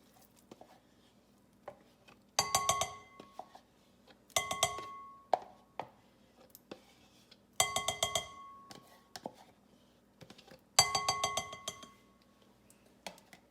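Ricotta cheese emptied from a large container into a bowl gives four separate bursts of wet, clinking scraping against the bowl, each lasting about a second, with quiet gaps between them.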